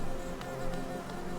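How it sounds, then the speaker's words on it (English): Bees swarm out of an enemy in the video game Hollow Knight, making a close, dense insect buzz that holds steady with slight flutters across a brief moment, with no voices over it. "Oh, and then this guy, oh, there's bees come out of him too?"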